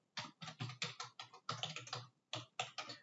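Fast typing on a computer keyboard in an office setting, a close series of rapid key clatters in bursts with short pauses, no talking.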